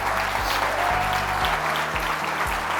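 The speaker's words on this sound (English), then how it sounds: "They deserve the round of applause" A crowd at an evening fundraiser gala applauds steadily, dense clapping filling the room without a break, with low rhythmic music thumping underneath.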